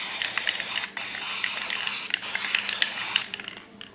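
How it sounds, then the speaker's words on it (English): A spray paint can spraying paint onto a rifle stock, a steady close hiss broken by short gaps and small clicks of the nozzle. "You gotta kind of spray him a bit to get him going."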